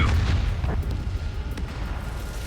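A missile launches in the Ace Combat flight game, a loud rumbling whoosh of rocket thrust that roars steadily throughout with no talking.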